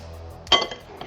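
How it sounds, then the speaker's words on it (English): Metal utensil clinks against a pan while cinnamon is stirred into apples with melted sugar, one sharp scrape-and-clink burst near the middle over quiet background. "And then we stir the cinnamon in"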